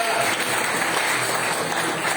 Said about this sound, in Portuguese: Dê um aplauso gostoso para Jesus agora.